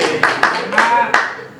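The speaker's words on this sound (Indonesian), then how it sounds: "Bisa tepuk tangan untuk NU Banjarharjo" Audience applause at an NU Banjarharjo gathering of young NU activists in Brebes, with a few sharp claps standing out over a dense spread of clapping, some voices mixed in, lasting under two seconds.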